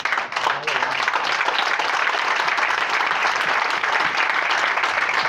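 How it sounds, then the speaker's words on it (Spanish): A church congregation applauding at a worship service, dense and sustained clapping from a crowd filling the room evenly throughout. "Un aplauso a Jesús."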